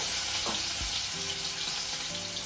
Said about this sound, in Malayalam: ചെമ്മീൻ ജസ്റ്റ് ഒന്ന് ഫ്രൈ ചെയ്തെടുക്കും